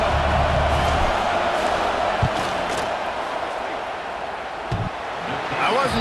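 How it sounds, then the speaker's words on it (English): Stadium crowd roars steadily in a dense wall of noise as the kicker lines up a field goal attempt at a football game, with faint shouts and a few sharp thuds rising out of the din. "This crowd trying to do its part to get inside the kicker's head."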